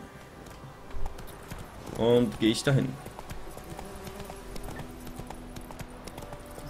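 Horse hooves clip-clop at a quick gallop in The Witcher 3, a rhythmic thudding that runs steadily under someone speaking German, with a brief vocal burst in the middle.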